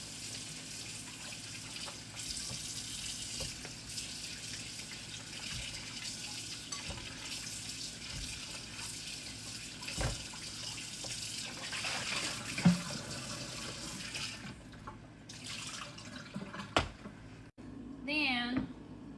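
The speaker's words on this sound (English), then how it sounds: "So I got my potatoes peeled. Gonna rinse them off again." Tap water runs steadily over peeled potatoes in a kitchen sink, a continuous close hiss and splash with some clinks and handling noises. It fades out near the end, and a person talks over parts of it.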